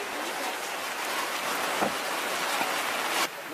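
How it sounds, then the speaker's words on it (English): Steady rain falls on an island beach at El Nido, Palawan, in the Philippines, a dense, even hiss of drops that holds through the whole stretch and eases slightly at the very end, with no talking. "Raining."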